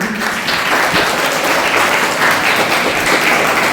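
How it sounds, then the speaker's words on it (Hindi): Children at a summer camp applaud loudly, a thick continuous wash of many hands clapping that runs the full length without a break and drowns out any other sound. "आप अपने लिए भी जोरदार तालियां बजाएंगे।"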